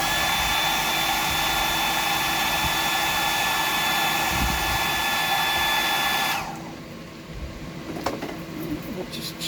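A handheld hair dryer blows steadily and loudly on a freshly tied deep-diver fishing fly for about six seconds, then cuts off, leaving quieter room sound and a few small knocks.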